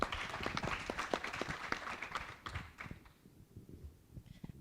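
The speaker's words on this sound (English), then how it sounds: "So give her a round of applause." Audience at a Kenyan investment learning event claps for a speaker, sparse and fairly quiet individual claps that thin out and fade toward the end.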